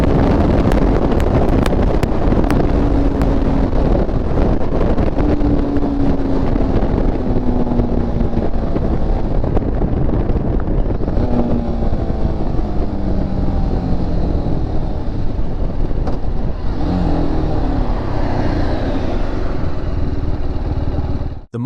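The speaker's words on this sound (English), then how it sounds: "Let's try slowing down the motorcycle using only downshifts" A motorcycle decelerating by downshifting without brakes, engine note stepping down in pitch through several gear changes under heavy, constant wind roar at the microphone.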